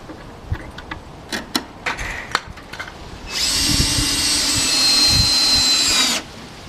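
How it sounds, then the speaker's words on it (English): A power drill drives a Torx-headed wood screw into a wooden fence slat over a 2x4, a steady whirring burst of about three seconds following several light clicks and handling taps. "I'm using 1 or 2 Torx-headed wood screws per slat to attach each slat to the 2x4."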